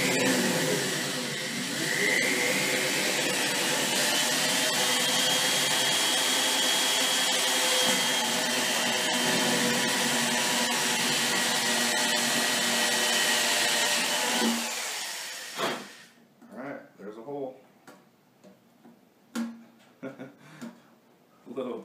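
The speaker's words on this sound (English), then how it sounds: "the same with the Dremel, I gotta figure out the speed pressure to make it drill right" A Dremel rotary tool drills holes for a tarantula enclosure with a steady high whine for most of the stretch, then cuts off, leaving scattered handling noises and what sounds like someone talking.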